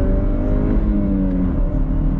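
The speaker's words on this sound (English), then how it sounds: "We are in this 2022 Chevrolet Camaro LS, and we're gonna go on throttle" A 2022 Chevrolet Camaro LS with a four-cylinder turbo engine accelerates hard under throttle, a steady, loud engine drone heard close from inside the car, with no talk.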